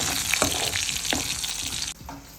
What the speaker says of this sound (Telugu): ఒక ఐదు నిమిషాల వరకు చాలా చిన్న మంట మీద ఫ్రై చేసుకోవాలి